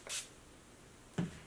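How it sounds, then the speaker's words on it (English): A pump bottle of Uncle Funky's Daughter Midnight Train leave-in conditioner spritzes hair in two short, soft bursts about a second apart, heard quietly and close against a near-silent room. "I'm going to start off by just spraying my hair, saturating this section with my Uncle Funky's Daughter Midnight Train leave-in"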